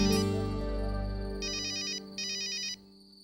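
A phone ringtone plays two short bursts of bright electronic ringing, close and clear, over a steady background music tone with no talking.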